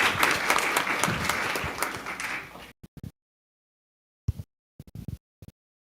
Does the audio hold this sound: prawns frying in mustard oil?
no